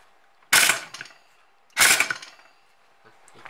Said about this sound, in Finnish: Sitten tähän tarvii taas pulttipyssyä